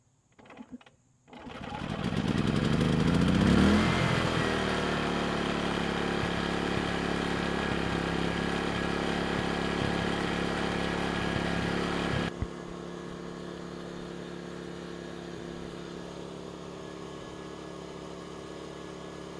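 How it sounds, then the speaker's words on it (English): An ERAYAK 4500W dual-fuel inverter generator starts up about 25 feet away and runs with a steady, even engine hum. Partway through, the level drops to a quieter, continuing drone. "So that'll give you some perspective as far as how loud the generator is"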